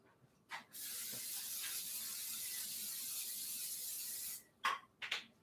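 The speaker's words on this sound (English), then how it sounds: "let's spray my pan" Cooking spray hisses onto a pan in a home kitchen as one continuous, close spray of about four seconds. A few short clicks and clatters follow.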